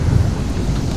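A thunderstorm with rain in Minecraft, a brief low rumbling roar of thunder over steady rain noise, loud and continuous for about a second.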